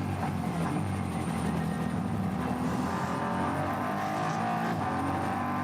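The Yokohama BMW race car accelerates away from the pit lane at the Nürburgring during an endurance race, its engine a continuous distant roar mixed with track ambience. Other engine noise sits underneath, and no one speaks.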